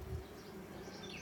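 Honeybees buzz as a dense, steady hum at an open hive during a routine inspection, faint and continuous with no talk.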